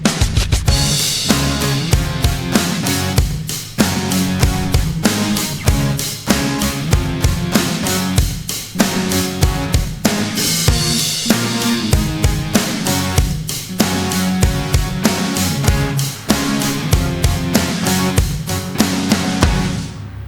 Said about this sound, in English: Our synths, our guitars and the drums sound like this together.